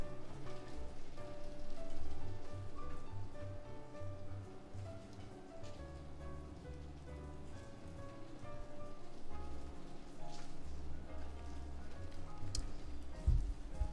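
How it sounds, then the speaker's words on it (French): Rain falls outside in a steady patter of drops on surfaces, continuous and moderately loud throughout, with a faint low rumble and scattered sharper drips near the end. "La pluie se calme chez moi."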